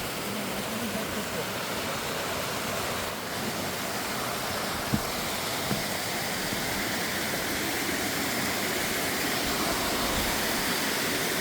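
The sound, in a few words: waterfall beside the Appalachian Trail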